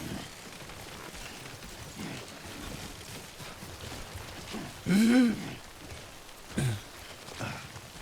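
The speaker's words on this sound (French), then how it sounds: "on pourra se mettre à l'abri de la pluie" Rain falling in the video game Death Stranding, a soft continuous hiss of drops under a brief voice and a short sigh-like sound.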